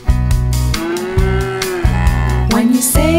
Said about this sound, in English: When you say hello to the cows, they say moo, moo, moo